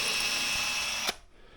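A power drill whines at high speed as it bores a hole through an exhaust part from a 1980 Triumph TR7, running steadily up close before stopping abruptly with a clunk into near silence.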